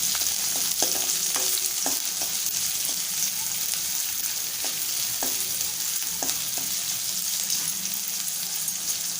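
Finely chopped medium-sized onion sizzles steadily in a hot pan for a Malvani-style elephant yam curry, a dense continuous frying hiss with occasional light scrapes and taps of a spoon stirring.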